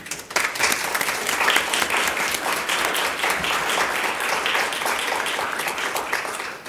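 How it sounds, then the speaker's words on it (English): Audience at a school district governing board meeting breaks into sustained applause, many hands clapping densely and evenly for several seconds in a large room, with no talk over it. "certainly something that deserves a huge round of applause"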